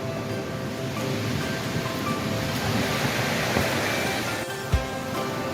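Mardis Mills tiny waterfall flowing outdoors in cold weather: a steady, broadband rush of falling water, even and continuous, with a brief thump near the end.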